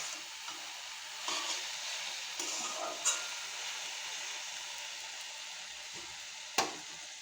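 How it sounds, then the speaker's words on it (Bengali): Jute leaves frying with onion and garlic in a pan, a steady soft sizzle with occasional brief crackles and a sharp pop near the end, no voices. "এখানে পাট শাক ভাজা করছি পেঁয়াজ রসুন দিয়ে।"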